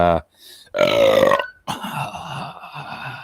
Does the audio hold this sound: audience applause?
no